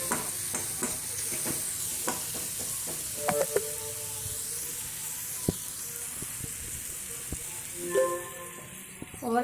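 Masala with a spoonful of sambar powder frying in a pan for a masala idli made from leftover idli, a steady close sizzle broken by scattered scraping stirs, with no talking.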